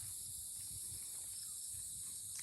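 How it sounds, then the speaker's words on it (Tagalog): Faint, continuous high-pitched crickets chirping in the distance, a steady insect buzz with no talking. "Kuliglig na lang, marinig mo dito kuliglig na wala na mga ibon."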